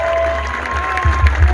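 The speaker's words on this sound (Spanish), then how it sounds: "fuerte el aplauso para Ana" Applause from an audience at a live folk music show, a peña in Argentina, moderate and steady over low hum, with a brief swell of louder claps near the end.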